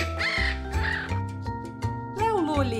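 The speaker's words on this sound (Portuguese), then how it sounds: "Este é o som do periquito, que vai charlar de novo." Squawking parakeet calls come in several short bursts, the last one swooping, all set over a constant musical backing in a children's bird-sound lesson.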